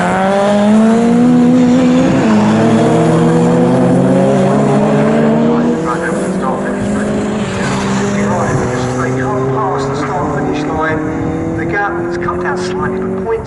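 Saloon race cars at Snetterton circuit come down through the gears under braking, loud engine notes falling in pitch across several overlapping cars, with a commentator talking over the whole pass.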